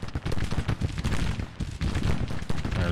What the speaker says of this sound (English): Artillery's getting shot at.